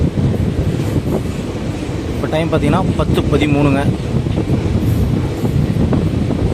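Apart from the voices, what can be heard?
Madurai–Coimbatore passenger express train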